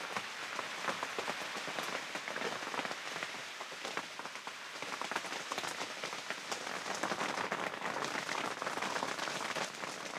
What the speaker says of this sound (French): Et il n'y a plus que la pluie.